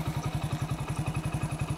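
A motorcycle engine idling in neutral gives off a steady, low, rhythmic thumping with even pulses, close and moderately loud, alone with no talk.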